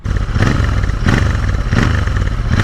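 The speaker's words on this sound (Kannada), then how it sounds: "ಇದರಲ್ಲಿ ಪ್ಯಾರಲಲ್ ಟ್ವಿನ್ ಇಂಜಿನ್ ಇದೆ. ಸೌಂಡ್ ಮಾತ್ರ ಕ್ರೇಜಿಯಾಗಿ ಬರುತ್ತೆ, ತೋರಿಸ್ಬಿಡ್ತೀನಿ ಒಂದ್ಸತಿ" A Royal Enfield GT650 with a parallel twin engine and stock exhausts revs up loudly and close by, three rising blips of throttle over a rumbling idle, with no one talking.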